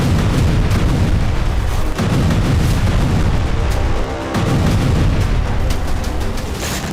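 Bombs explode on a Gaza refugee camp at night in news footage, heavy booms and rumbling blasts rolling continuously, loud and dense, with a brief dip before the barrage resumes.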